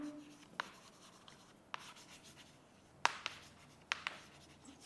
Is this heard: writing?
yes